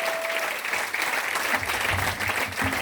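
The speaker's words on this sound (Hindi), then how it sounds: "एक बार कुणाल जी ताली बजा दो यार, ये प्रोग्राम ऑर्गेनाइज करने के लिए।" Audience applause fills a training meeting hall, steady and dense clapping from a crowd that continues throughout without a break.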